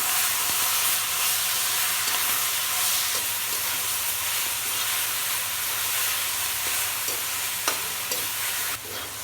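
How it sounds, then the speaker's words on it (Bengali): Shredded cabbage fries with lentil nuggets (bori) and onion in a pan, a loud, continuous broad sizzling hiss with occasional light stirring clicks near the end, close up and without talk. "পেঁয়াজ বড়ি ভাজা হয়ে গেছে, এবার আমি কপিটা ঢেলে দেবো।"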